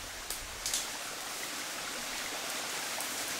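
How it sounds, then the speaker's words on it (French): A stream flows beside a garden path, producing a steady, broad rushing wash of water that stays even throughout, with a couple of faint knocks near the start and no talking. "Vous voyez là le ruisseau"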